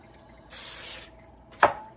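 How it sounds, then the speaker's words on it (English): Cooking spray hisses onto a salmon-stuffed puff pastry in one close, half-second burst, followed by a sharp little knock as the can is set down. "Gotta spray it."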